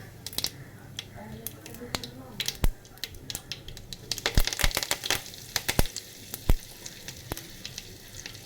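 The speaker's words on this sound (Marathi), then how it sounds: "आता तेल आपलं तापलं मी टाकते मोहरी जिरे कढीपत्ता तुकडे करून टाकते बारीक" Mustard seeds, cumin and chopped curry leaves hit hot oil for semiya upma, crackling and popping in sharp irregular bursts over a steady sizzle, close up.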